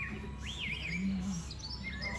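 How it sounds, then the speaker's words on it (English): Small birds at a cheap backyard feeder chirp and whistle, with a sweeping, wavering call and a few shorter tweets over quiet background hiss; no talking. "The other birds, lots of birds down there."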